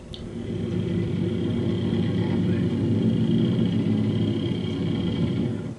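A motorbike carrying a stretcher case rumbles steadily nearby, its engine droning evenly at a constant level for several seconds.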